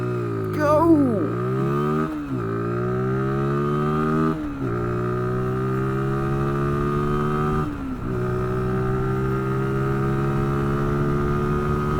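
A Zontes ZT 125-U1 125cc motorcycle accelerates hard up close, its engine note climbing steadily through several gears with brief dips at each of about three upshifts.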